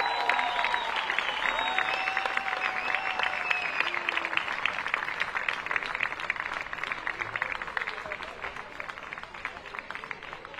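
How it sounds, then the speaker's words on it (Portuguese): A crowd applauds the Amora team at a women's football tournament prize ceremony, steady rapid clapping throughout while voices and whistles carry over it. "O Amora, uma salva de palmas também."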